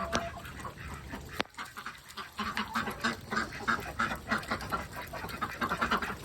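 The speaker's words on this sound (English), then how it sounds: "The ducks are out, and it's trying to flood right there." Ducks quack outdoors in the rain, several birds calling in irregular bursts over a steady wash of rainfall, with chickens also nearby on a small farm.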